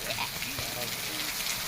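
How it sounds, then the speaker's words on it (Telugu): Rain falling gives a steady broadband hiss of drops across the full short stretch, with faint voices under it. "వర్షం పడుతుంది ఫ్రెండ్స్"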